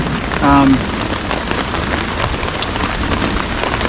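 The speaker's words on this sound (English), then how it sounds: "So it's raining, just as I knew it would be." Steady rain falls on a tarp and ground at an Adirondack shelter camp, a constant close patter throughout with a brief low hum early on and no clear speech.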